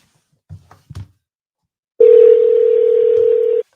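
Two faint low thumps, then a sustained steady telephone dial tone that sounds loudly for about a second and a half as a call is placed.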